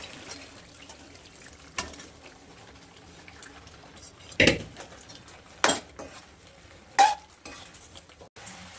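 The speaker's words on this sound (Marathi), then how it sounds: "आपण आता त्याच्यात सोयाबीन टाकून घेऊया" Soybeans get stirred into oil-rich frying masala in a pan: soft scraping and shuffling, with a few sharp utensil clanks against the pot standing out near the middle and end.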